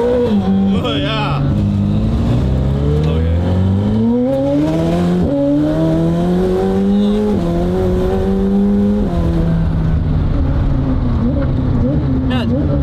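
A Lamborghini Aventador SVJ accelerates hard through its gears. Its loud engine note climbs, drops at each shift and climbs again, heard from inside the cabin, with people talking over it.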